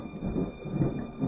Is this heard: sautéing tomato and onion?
no